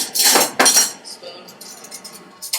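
A metal spoon clinks sharply against a bowl while scooping bon-bon mixture, two bright clanks close together followed by fainter scraping taps, close up and alone.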